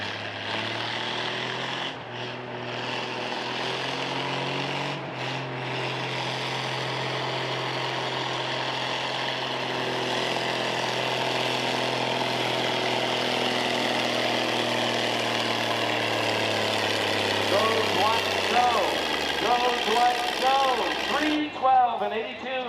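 A pulling tractor at a Sunday Illini State Pullers tractor pull in Paw Paw, Illinois: a loud, sustained engine roar with strong harmonic whine, building steadily before cutting off near the end, with crowd noise and voices around it.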